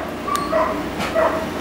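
A small puppy whimpers and lets out a couple of high yips, close by, with a quiet room in the background.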